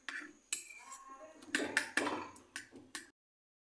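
Beaten eggs are whisked in a bowl for an omelette, giving a few sharp clinks of a utensil against the bowl with soft scraping swirls between them, close and fairly quiet.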